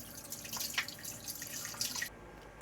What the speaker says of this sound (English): All this is doing is dispersing the water